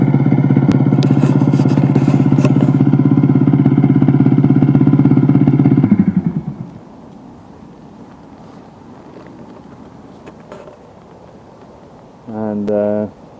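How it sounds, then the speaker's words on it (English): A Yundian custom eBike's simulated engine noise: a steady, buzzing engine-like hum drones loudly, then cuts off abruptly, leaving quiet background noise before a brief rumble returns near the end. "you can hear the engine."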